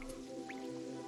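Liquid poured into bottles in the video game Terraria, a brief wet squishing, dripping sound effect over a steady tonal game background, quiet and close, with no talking.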